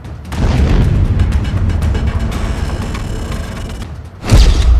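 A nuclear bomb explosion sound effect for a blast in the middle of New York City: a loud, sustained roaring rumble that swells, dips briefly, then breaks into a sharp, heavy boom near the end.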